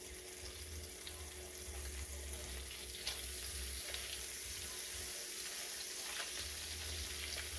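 A ribeye steak fries in a pan with margarine melting around it, making a faint, steady sizzle and soft bubbling with no talking.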